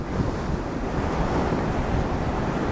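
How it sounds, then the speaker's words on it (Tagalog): Rough sea surf roars steadily up close, a dense rush of crashing water mixed with gusty wind buffeting the microphone. "ganun kagulo yung alon"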